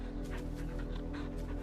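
Torgal, a dog in a video game, whimpers in soft repeated whines over a steady low game-music hum, close and fairly quiet.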